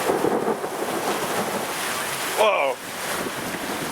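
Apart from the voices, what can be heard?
pea-size hail hitting a car while driving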